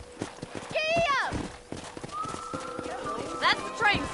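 Horse hooves clip-clop in the Red Dead Redemption western video game, with a horse whinnying early on over a steady hoofbeat rhythm. A voice and game music sit in the background.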